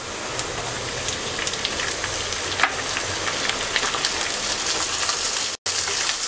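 Prawns fry with onion in a pan, a steady rain-like hiss with scattered pops and crackles, moderately loud and close, with a short gap near the end and no talking.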